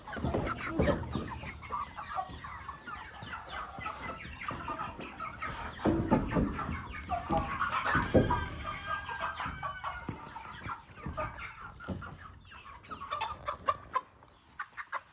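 Homegrown chickens cluck and squawk in a busy, continuous flurry while being caught by hand, loud and close, with sharp bursts of agitated fowl calls and rustling throughout.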